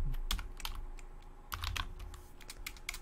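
Quick, soft keystrokes on a computer keyboard as a short text prompt is typed, a light clattering run with a brief pause in the middle, close and quiet.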